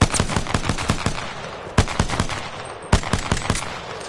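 A P2020 pistol in Apex Legends fires in rapid close bursts of sharp shots, with brief pauses between three volleys and no voices over the gunfire.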